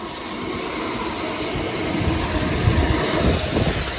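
A train passing through Thanet Parkway station, a steady broadband rumble that swells louder in the second half as wheels and carriages roll by nearby, with no voices.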